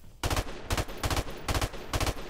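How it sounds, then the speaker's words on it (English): Gunfire in Call of Duty Modern Warfare Remastered during a competitive 2v2 match: five loud, sharp bursts of rapid shots at a steady rhythm, close and clear with no talking. "I'm just gonna pre-fire."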